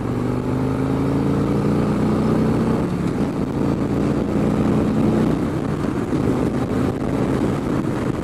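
A 2017 Harley-Davidson Street Glide with a Stage 1 Screaming Eagle upgrade drones steadily on the open road at about 40 mph, its low engine note rising slightly as it pulls, with wind rush throughout and no talk.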